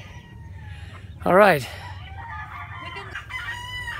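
Chickens cluck on a farm in Nasugbu, Batangas, and a rooster lets out one loud crow partway through, with further clucking afterward while a person speaks briefly nearby.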